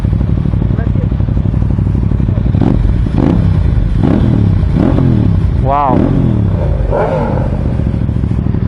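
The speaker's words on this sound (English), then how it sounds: "Let's start her up. Uses a traditional key and it has an Akrapovic" An Aprilia RS660 sportbike with an Akrapovic slip-on exhaust is started with a traditional key and revved in several rising bursts, close and loud, under a continuous engine rumble, while someone talks over it.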